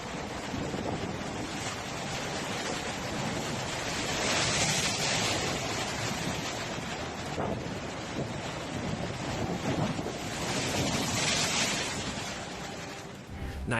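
Big waves crash and surge along the Great Lakes shore at Buffalo during a blizzard and bomb cyclone, with a steady roar of strong wind buffeting the microphone, no voices.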